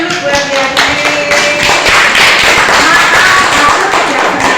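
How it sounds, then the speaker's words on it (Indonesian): Schoolchildren clapping for a classmate in a classroom, a loud, close patter of small hands with uneven, sharp claps and a few faint voices mixed in. "Iya, tepuk tangan dulu buat Yasmin."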